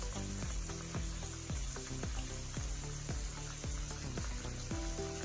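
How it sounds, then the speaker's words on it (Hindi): Chickpea curry masala for chole cooks in a pan on medium heat, giving a steady sizzle broken by regular soft thuds, loud and close with no one talking. "ये हमारा मध्यम आंच पे पकता हुआ"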